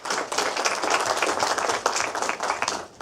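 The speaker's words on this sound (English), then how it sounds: "I want to give a big round of applause to all of you" Audience at a conference on Canadian Sikh history bursts into sustained, dense applause, loud and close, with many hands clapping steadily for several seconds.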